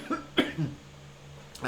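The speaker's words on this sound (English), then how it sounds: "Apologies for the cough." A few sharp, close coughs from one person, clustered in quick bursts, followed by a short quiet stretch and one more faint catch of breath.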